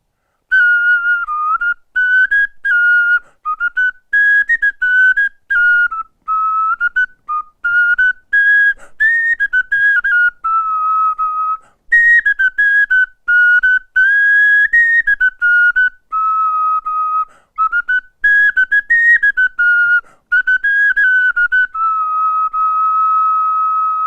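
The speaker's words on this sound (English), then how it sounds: "So it's like a penny whistle." A goat-bone whistle with three finger holes and a beeswax block, blown down the end, plays a lively melodic tune alone, in short bright phrases separated by brief breath pauses.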